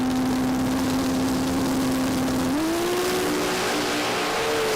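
A 427-cubic-inch drag racing car accelerates down the strip at a Brisbane racing event, a loud steady engine tone climbing in pitch partway through the pull under constant broadband roar.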